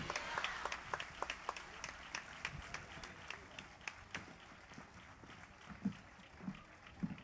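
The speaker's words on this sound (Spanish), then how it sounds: "Ese aplauso para Javier Linares." Applause from a crowd at a religious procession offering to the Virgen del Carmen in Puerto Santiago, scattered claps rising and falling unevenly throughout, fairly faint and distant.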